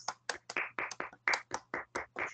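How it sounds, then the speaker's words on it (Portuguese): A short burst of about a dozen sharp, evenly spaced handclaps from a small church gathering applauding for Jesus, close and crisp with no voices. "A Jesus, as nossas palmas."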